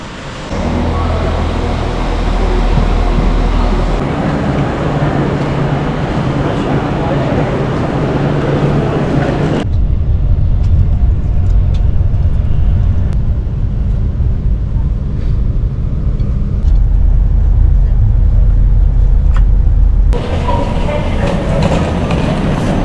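Train at a railway station, a loud sustained rumble and roar of rolling rail cars with shifting tone and level and a sharp change partway through, continuing steadily to the end.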